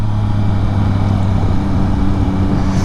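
A Yamaha MT-09 SP motorcycle cruising along a road, a steady low engine drone close to the microphone with constant wind roar and no speech.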